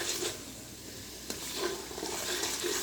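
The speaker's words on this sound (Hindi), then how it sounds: "ये देखें, अब हम इनको अच्छी तरह से भून लेते हैं।" Spices and chicken fry in a pan for chicken korma, a soft steady sizzle with faint stirring, quiet and close with no talk.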